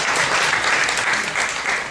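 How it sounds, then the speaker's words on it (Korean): An audience at a regional hometown association forum applauds a guest speaker, producing thick, continuous clapping at even volume throughout. "여러분 뜨거운 박수 다시 한 번만 부탁드리겠습니다."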